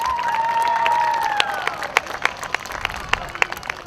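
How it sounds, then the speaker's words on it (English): A crowd at a county fair pig race applauds and cheers, with a sustained whoop fading into sparse, sharp claps nearby. "Let's give one big round of applause for our stars of the show."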